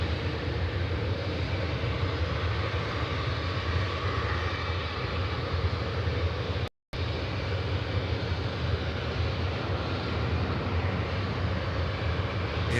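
An airliner arriving from Melbourne lands on runway 16 left at Sydney Airport in a crosswind, producing a steady, distant broadband roar that holds throughout with one brief dropout midway.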